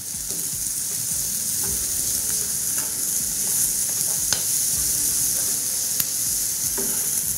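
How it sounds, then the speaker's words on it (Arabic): Garlic and vegetables for vegetarian spaghetti sizzle steadily in a frying pan while being stirred, with scattered scrapes and clicks of the utensil over a constant hiss, close and without talk. "وكنضيفو شويه ديال الثومه. ها هي وجده عندنا. وكنحركو من جديد،"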